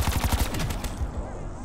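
Rapid automatic gunfire mowing down zombies in Black Ops 4, a loud close stuttering burst at the start that thins into scattered shots and ringing tail.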